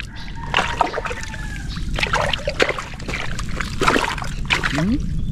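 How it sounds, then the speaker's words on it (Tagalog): A small boat motor runs on a river, a moderate buzzing drone under sloshing water and splashes, with occasional voices nearby. "Ay, motor na."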